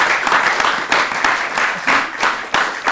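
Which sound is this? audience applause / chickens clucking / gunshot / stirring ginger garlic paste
audience applause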